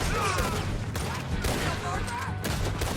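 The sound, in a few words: gunfight gunfire in the video game Red Dead Redemption 2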